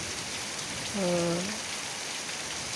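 Steady rain patters in a continuous, even wash of hiss, with a brief tonal call rising out of it for a moment near the middle.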